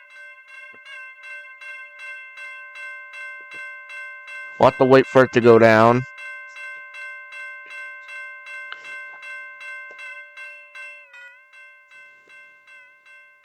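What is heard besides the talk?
railroad crossing bell ringing in Ro-Scale Sandbox video game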